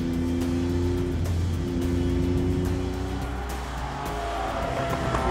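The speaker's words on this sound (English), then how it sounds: "I'm over driving the front of the car at the moment just to see what the tyre does" A car driven hard on a circuit with its front tyres pushed past their grip: a loud, steady engine drone carries throughout, with brief tyre scrubbing and squeal layered over it.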